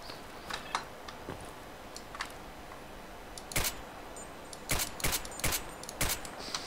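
Gunshots in the S.T.A.L.K.E.R.: Clear Sky video game: scattered sharp cracks, some single and some in quick bursts, loud and close over faint background ambience.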